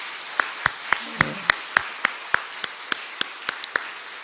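Congregation clapping in unison in a Korean church during an early-morning prayer service, about a dozen sharp, evenly spaced claps in a slow steady rhythm, fairly close and distinct against a quiet background.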